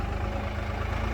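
Small tractor engine straining while pulling a heavily loaded hay bale wagon on a road, a continuous low rumbling drone with steady throb, close and fairly loud throughout.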